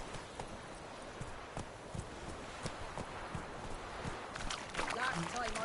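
Roach the horse clip-clops along in The Witcher 3, with soft steady hoofbeats, rustling and wind in the background, and voices talking over it.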